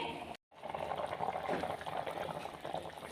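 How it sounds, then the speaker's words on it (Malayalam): Fish curry bubbles at a low, steady boil in a pot, a soft continuous simmering with a brief gap near the start and no talking. "നമ്മുടെ മീനൊക്കെ ഏകദേശം നന്നായിട്ട് തിളച്ചിട്ടുണ്ട്"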